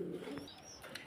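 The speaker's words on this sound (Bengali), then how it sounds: "এখানে আরো এক জোড়া কবুতর।" Pigeons coo softly at a pigeon farm, a brief low murmuring call carrying faintly with light background noise.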